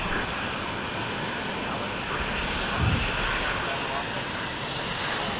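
Idling F-16A MLU jet engine holding on the runway before takeoff in the Falcon 4 Allied Force flight simulator, a steady broadband roar and hiss with no rise in power, at an even loudness throughout.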